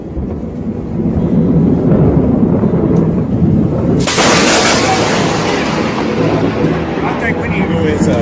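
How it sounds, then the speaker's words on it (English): A lightning strike during extreme stormy weather, hitting a nearby light pole, sets off a sudden loud thunder crack midway that rolls on into a long rumble over steady rain and wind noise. "This is the scariest lightning strikes ever."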